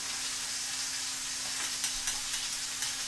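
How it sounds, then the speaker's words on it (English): Roast beef sears in a hot pan, giving off a steady, soft sizzle and crackle with a few small pops. "let's wait till we get a nice sear, and then we'll flip it around"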